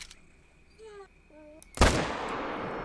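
A hunting rifle shot in theHunter Call of the Wild, a single loud, close crack followed by a long fading echo and tail, after a few soft game tones and quiet ambience.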